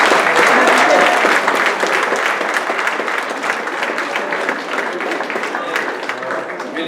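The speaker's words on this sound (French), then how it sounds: "on peut encore les applaudir" A crowd applauds club athletes at a city sports awards ceremony, a loud, dense wash of clapping that stays steady for several seconds and eases slightly toward the end.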